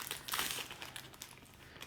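Plastic packaging on a crochet magazine and its free gifts crinkles and crackles steadily at close range while it is handled and cut open with kitchen scissors, quiet and continuous, with no voices.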